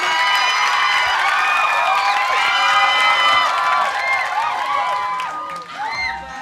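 A studio audience at an Indonesian TV variety show cheers and applauds for a singer, a loud, sustained wash of clapping and shouting voices that fades slightly near the end.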